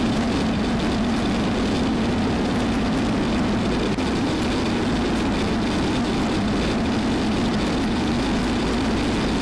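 A Zenith light aircraft's engine drones steadily in flight, a constant low-pitched hum with airy broadband noise running evenly throughout, close and continuous with no talk.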